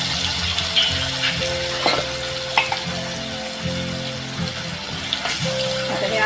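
Ground spice paste drops into hot oil with asafoetida and curry leaves for Maharashtrian village-style drumstick bharit, giving a steady close sizzle with occasional stirring scrapes over a faint background tone.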